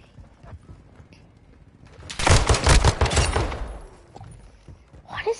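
Pistol gunshots in a video game, a rapid burst of loud sharp cracks clustered together in the middle, with quieter clatter before and after.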